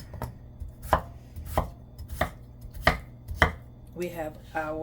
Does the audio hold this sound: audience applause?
no